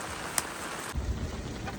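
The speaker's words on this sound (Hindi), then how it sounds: "आज बारिश वाला मौसम है" Steady rain falls in rainy, cold weather, a constant broadband hiss with a faint crackle, with one sharp tick early on and low thuds partway through, and no voices.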